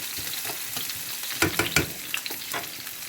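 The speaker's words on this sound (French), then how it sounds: "donc là j'ai grillé mes oignons" Onions sizzling and frying in a pan while stuffed sweet peppers are prepared, a steady close crackle with a few sharper stirring scrapes and spatters in the middle.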